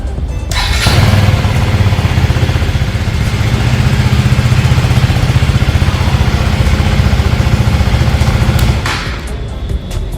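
A 2025 KTM 250 Duke motorcycle engine cranks and catches, then idles steadily and loudly up close with a rapid throbbing rumble before it is shut off.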